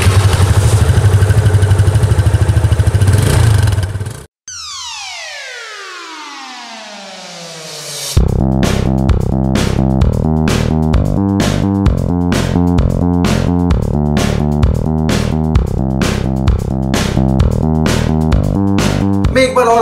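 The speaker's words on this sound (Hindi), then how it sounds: "तो चलिए सबसे पहले सुनते हैं इसका एग्जॉस्ट नोट।" A TVS Ntorq 125cc scooter with a 124.79cc four-stroke, single-cylinder, air-cooled engine gives a steady, close idle from its exhaust. The sound cuts out briefly and settles back into a continuous putter, with no voices over it.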